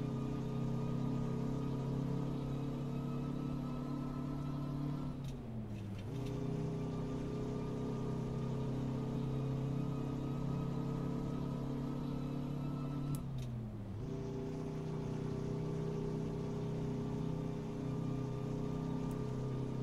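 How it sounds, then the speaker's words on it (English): A truck with a Detroit diesel engine in American Truck Simulator, a steady, loud engine drone under load that dips twice during gear shifts before climbing again. "Actually sounds really good with the Detroit."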